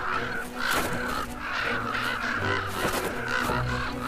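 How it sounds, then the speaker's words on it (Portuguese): Crows cawing harshly and repeatedly while defending a carcass from eagles in the far northern wilderness, a loud, continuous chorus of overlapping calls with no talk. "Os corvos defendem o seu alimento."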